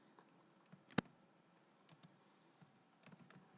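Sparse, quiet keystrokes on a computer keyboard during data entry, with one sharp, louder clack near the start and light scattered taps afterward.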